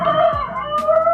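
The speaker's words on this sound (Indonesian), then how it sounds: "ayam berbunyi lagi ya" A chicken sound effect, probably a cluck or crow, plays loud and close for about a second during a PHP and MySQL web chat app tutorial, alone and without talk.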